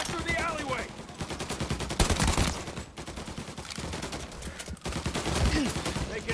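Tommy gun fire in Mafia Definitive Edition, rapid automatic bursts rattling almost continuously in a city gunfight, with a voice talking over the shooting.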